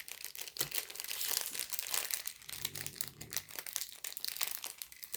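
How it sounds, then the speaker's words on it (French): A zip-lock plastic packet being opened close up, a run of crisp crinkling and crackling plastic rustles with small tearing snaps, no one speaking. "Tout en paquet zippé. Je vais quand même vous ouvrir."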